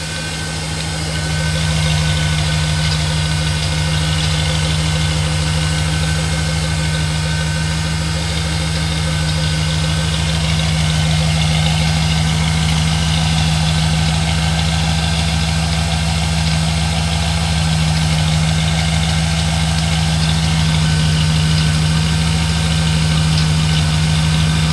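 A 1979 Cadillac with an LS engine swap idles steadily, a deep, even exhaust burble with a strong low hum, close and continuous for the whole stretch, no voices.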